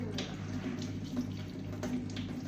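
Running water from a tap splashes steadily over a Jamaican land crab being rinsed of dirt, a continuous close hiss with a low hum beneath and no talk.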